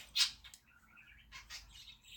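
A pet bird gives a few short, high chirps indoors, one brighter tweet near the start and softer calls after, faint and alone with no talking.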